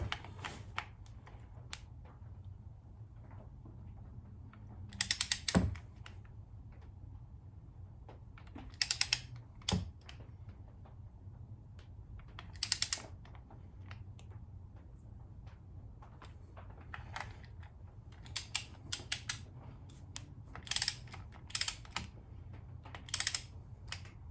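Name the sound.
torque wrench tightening motorcycle clutch cover bolts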